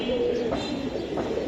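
Pigeons coo softly in a loft where Giribaz and New Tail pigeons are kept for sale, low murmuring calls rising and falling under a steady background hum, close but fairly faint.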